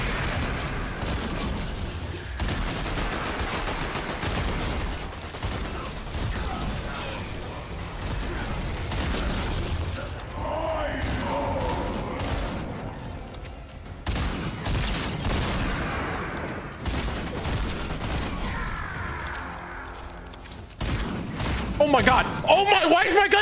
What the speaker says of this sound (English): Why was it shooting by itself?